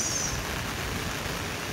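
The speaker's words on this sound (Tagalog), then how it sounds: "Ulan po dito sa labas." Steady rain falls outside, a dense, even hiss that holds at a constant level for the whole stretch with no voices over it.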